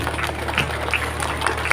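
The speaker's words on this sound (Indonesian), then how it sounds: "luar biasa tepuk tangan buat panjenengan" Applause from a crowd at a large Islamic religious gathering (pengajian) in Ponorogo, a dense steady patter of clapping heard at moderate distance across the whole stretch.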